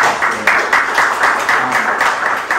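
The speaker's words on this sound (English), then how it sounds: "So if we can just give them a round of applause." An audience at a candidate forum gives a round of applause, a dense, fairly loud patter of many hands clapping steadily for a few seconds.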